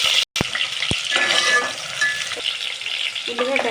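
Onion and green chillies dropped into hot oil for a home curry, a steady bright sizzle with a few clinks of a pan or spoon near the start.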